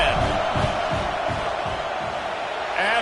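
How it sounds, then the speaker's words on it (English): Football stadium crowd yelling and roaring before a field goal attempt, a dense sustained wall of voices from a large crowd, loud and continuous with swelling cheers. "This crowd trying to do its part to get inside the kicker's head."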